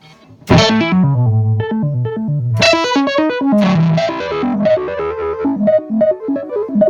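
A guitar through an EarthQuaker Devices Arpanoid arpeggiator pedal in up-down mode plays rapid stepping note patterns that climb and fall, starting after a brief pause, with bright, slightly distorted tone.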